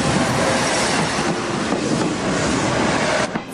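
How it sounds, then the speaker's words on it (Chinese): A train passes on the railway tracks near Shifen Waterfall, loud and close, with a continuous rumbling roar and rattling wheel noise that trails off abruptly at the end. "在这里，火车随时都会通过"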